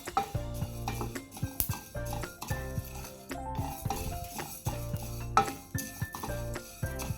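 Spices with black pepper and coriander roasting dry in a pan for prawn ghee roast, with repeated close metallic scraping and clinking of a spatula against the pan over a light sizzle, in irregular strokes.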